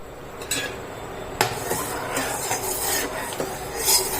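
A spoon stirs thin sugar syrup with two small cardamom pods in a metal pot, giving a few scattered scrapes and clinks against the pan over a steady low background hiss, with no talking.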